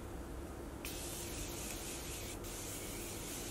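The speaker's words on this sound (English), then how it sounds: "I'm gonna spray this setting spray over top and see if that makes a difference." Makeup setting spray is misted over a matte foundation in a steady close-up hiss that sounds continuous.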